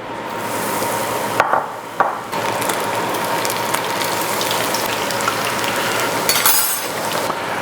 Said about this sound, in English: and drop it in the oil